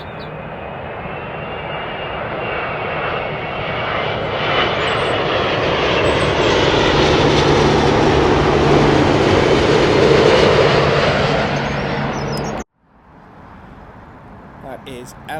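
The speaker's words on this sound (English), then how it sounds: "787-9, the Boeing Dreamliner, and that is coming in from Tel Aviv" A Boeing 787-9 Dreamliner arriving from Tel Aviv lands at London Heathrow, its loud engine roar swelling steadily for about twelve seconds before cutting off abruptly, followed by quieter background noise.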